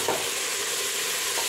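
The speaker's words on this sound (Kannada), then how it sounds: "ಸ್ವಲ್ಪ ಫ್ರೈ ಮಾಡ್ಕೋಬೇಕು. ಸ್ವಲ್ಪ ಮೆತ್ತಗಾದ್ರೆ ಸಾಕು," Mixed vegetables frying and being stirred in a pan for sambar, a steady close sizzle with occasional stirring scrapes throughout, no talking.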